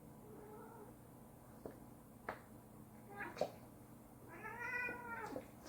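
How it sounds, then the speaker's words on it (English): Cats high on catnip wrestle and fight indoors, giving several short meows and a drawn-out yowling caterwaul, with soft thumps and rustling between the cries, all fairly faint. "Give the kitties a kitty nip and watch them wrestle and fight."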